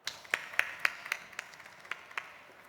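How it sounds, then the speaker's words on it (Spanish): About ten sharp claps ring out in a sparse, uneven rhythm at an audience event, faint and fading rather than full applause, with no voices. "Un aplauso para ella."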